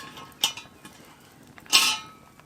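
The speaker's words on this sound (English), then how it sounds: "And hopefully I can grab the handle. Yes, I can. Bring the pot over here." A hot Dutch oven pot being handled and moved, giving two metallic clanks, a short one early and a louder, ringing one later, over quiet background with no talking.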